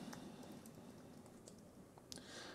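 Typing on a computer keyboard: a few faint, scattered key clicks over a quiet background hiss.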